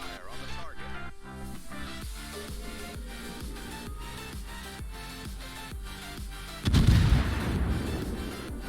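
Naval video-game combat as the cruiser Des Moines fires broadsides. Repeated heavy gun booms come in a regular rhythm over music, then a louder, closer blast near the end, with a voice talking throughout.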